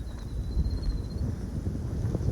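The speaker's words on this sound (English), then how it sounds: "A little windy on this side though." Wind gusts across open rolling hillside pasture on the Appalachian Trail, a steady low rumble buffeting the microphone with no let-up and no voices.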